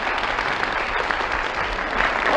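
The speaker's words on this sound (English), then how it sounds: "after that small smattering of applause" A small studio audience at a 1950s television variety show gives a brief, moderate round of applause, a steady patter of clapping that swells slightly at the end.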